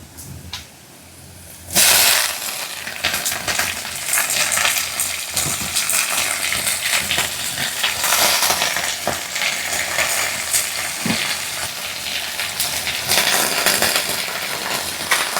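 Khapri greens dropped into a pan of frying onion, green chili and garlic, setting off a loud sudden sizzle after a quiet start, followed by steady crackling frying and stirring scrapes that continue to the end.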